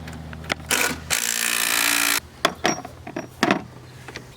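Power tools whir and rattle during a car clutch job, with a sustained roaring burst of about a second amid shorter mechanical bursts and clanks, close and loud.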